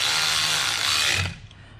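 A wrench tightens camber plate bolts on a BMW E92 335i, giving a close, loud grinding rasp under the car that runs for over a second, then fades out, with no talking.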